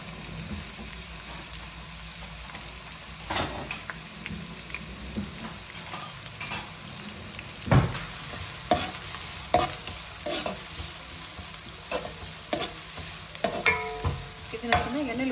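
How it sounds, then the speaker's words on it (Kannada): Chopped onions and green chillies frying in oil in a kadai, a steady close sizzle broken by repeated scraping stirs of a spoon against the pan, with no talking. "ಹಾಗೆ ಚಾಪ್ ಮಾಡ್ಕೊಂಡಿರೋ ಈರುಳ್ಳಿ ಹಸಿಮೆಣಸೆಲ್ಲ ಅದಕ್ಕೆ ಹಾಕ್ಕೊಳ್ತೀನಿ."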